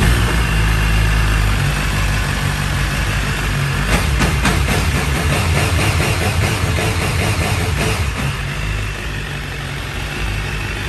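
A 2019 BMW S1000RR sport motorcycle engine idles nearby, a dense, continuous mechanical drone with a faint rhythmic pulsing in the middle stretch and no talking over it.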